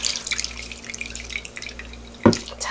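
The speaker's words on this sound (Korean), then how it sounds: "헹궈줄 때는 물기를, 오이 물기를요, 좀 꼭 짜줄게요" Water drips and splashes as salted, pickled cucumbers are squeezed by hand during rinsing for quick Korean oiji, with scattered light drips and one sharper splash near the end, close and fairly quiet, without talk.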